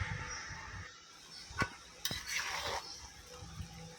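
Banana and potato pieces fry in a mustard spice paste, a soft sizzle broken by a few sharp clicks and scrapes of a utensil stirring against the pan.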